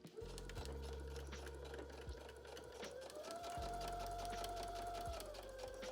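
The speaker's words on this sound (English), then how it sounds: "Then you'll sew the bottom edge of the fly shield with a 3/8 inch seam allowance." A sewing machine stitches the bottom edge of a trouser fly shield, running steadily and close with a continuous whirring drone that shifts pitch slightly partway through.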